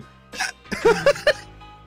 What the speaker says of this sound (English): oh god, I have hiccups